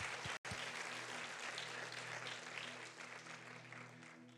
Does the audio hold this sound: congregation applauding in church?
yes